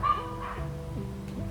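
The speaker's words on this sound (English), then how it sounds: "Silly dog." A dog barks a few times at close range, short yapping calls over faint background hum, with no talking.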